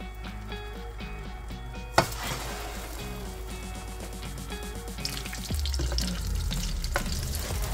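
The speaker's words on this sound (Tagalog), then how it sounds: "ilalagay natin siya sa mainit na kawali and i-prito natin siya guys hanggang sa mag-golden brown" An eggplant omelette frying in a hot pan gives a steady close sizzle and crackle, rising slightly louder toward the end, with some light clatter of a utensil and no talking.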